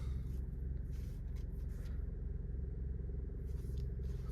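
A 2009-era Ford Escape 2.5L four-cylinder idling in drive with a slight vibration after a front engine mount replacement, a quiet, even low rumble that holds steady throughout.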